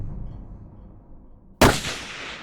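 A single sharp, loud rifle shot cracks close by during a coyote hunt with a predator call, following quiet low rumble and trailing off in a brief outdoor echo.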